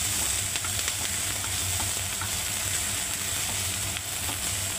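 Chopped onion stirred in a hot kadai, a steady, fairly quiet sizzle of frying with faint scraping from the stirring, continuous and alone.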